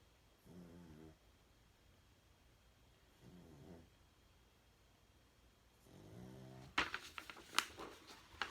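A dog snoring nearby in slow, rhythmic rumbling breaths spaced a few seconds apart, quiet and close, followed by a burst of sharper rustling and clatter near the end.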